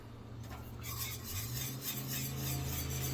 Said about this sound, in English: You just stir that right on in there.